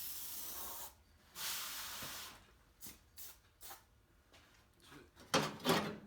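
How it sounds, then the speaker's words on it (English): Short hissing aerosol bursts of protective coating are sprayed onto the back of parts during a 1966 El Camino restoration, several quiet spurts of varying length with pauses between them. "We'll just spray a little bit of that on the back of that."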